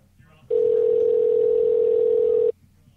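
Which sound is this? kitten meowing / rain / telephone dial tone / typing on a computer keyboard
telephone dial tone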